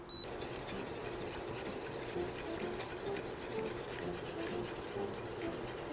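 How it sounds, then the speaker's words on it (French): A whisk scrapes steadily and continuously around a pot of haskap berry mixture thickened with cornstarch, a soft, even rasping stir at low volume with no talk. "c'est important de fouetter tout le temps jusqu'à temps que ça boue"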